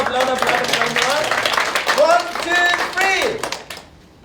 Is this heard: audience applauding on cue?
yes